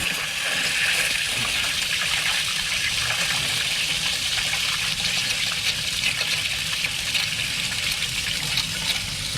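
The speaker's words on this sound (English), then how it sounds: "Let me get this water and start filling this up." Steady rushing and gushing of water pouring continuously into a beginner saltwater aquarium tank, loud and close, with no voices.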